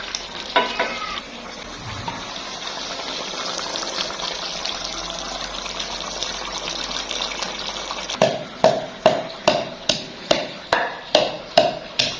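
Green chillies tipped into chicken korma frying in a village cooking pot, a steady sizzling hiss followed by a run of about eight sharp, evenly spaced clanks of stirring against the metal.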